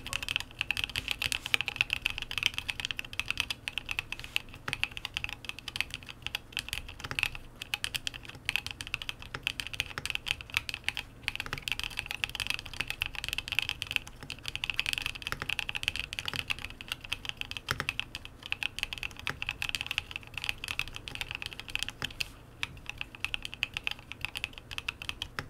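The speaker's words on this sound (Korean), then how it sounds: "타건음 들려드릴게요" Steady, continuous typing on a cat-themed Nyaong75 R2 mechanical keyboard with rapid clicky keystrokes close up, running without pause for the whole stretch and no voices.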